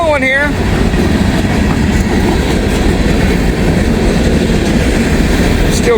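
A long freight train hauling steel coil cars rolls past close up, with a brief wheel squeal at the start, then a loud, steady rumble and clatter of wagons.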